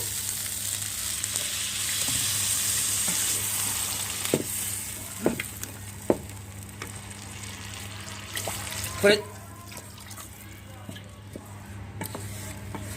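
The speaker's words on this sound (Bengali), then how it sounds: "এখন এটা আমি ঝোলের পানি অ্যাড করে দেবো" Water is poured into a pan of frying masoor lentils, cutting through a steady sizzle with a splash and bubbling, while utensils clink now and then and a voice talks quietly over it.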